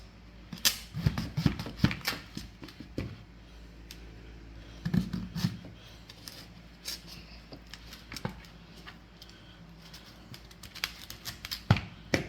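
A knife slices a large potato into round pieces, landing as irregular, close, sharp taps on a cutting board, clustered in bursts with a few louder strikes and no talking.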